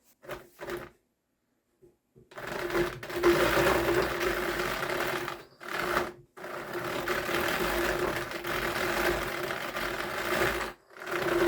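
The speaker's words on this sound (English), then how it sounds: "this is going to be now ran through the carder" Drum carder processing raw sheep wool fleece, a steady whirring hum with grinding texture running in long stretches broken by brief stops and a few knocks, close by with no talking.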